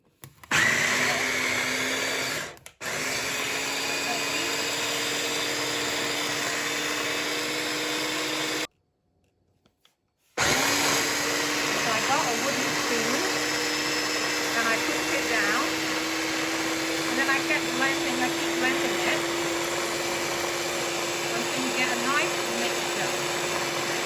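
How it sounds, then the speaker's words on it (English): A blender runs loud and steady, whirring through Bajan pepper sauce made with Dijon mustard. It stops briefly twice, then starts again with a continuous motor whine. "I'm going to put it all in there so that when I blend it, I don't have to open this"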